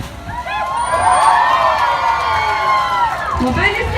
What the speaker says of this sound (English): by the sound of your applause, I think Cosmo here is our winner.